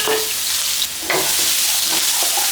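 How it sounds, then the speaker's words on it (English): Crushed garlic sizzles in hot oil in a wok over low heat, a steady close crackling hiss with a brief stir near the start, no voices. "Just pop in some of that crushed garlic. Get that flavor in that oil."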